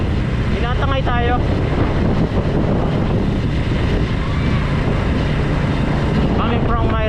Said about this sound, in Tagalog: Malakas ng hangin. Tinatangay tayo.